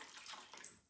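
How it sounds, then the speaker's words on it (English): Water pouring into a steam canner, a couple of inches filled for a pickled asparagus batch, a brief close rushing splash with a sharp spike near the end before it fades. "I'm going to put a couple of inches of water in the steam canner."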